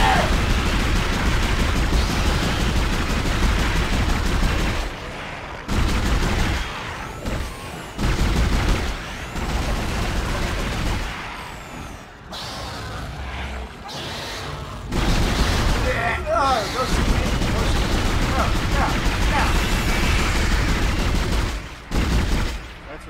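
Heavy gunfire in the sci-fi horror video game Dead Space comes as loud, sustained bursts of shots and booms, broken by short pauses before the firing resumes.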